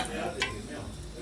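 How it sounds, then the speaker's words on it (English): Onions tipped into hot cooking oil in a pan while preparing ugali and omena, giving a steady close sizzle with a brief brighter hiss as they land. "So my next step is to add some onions."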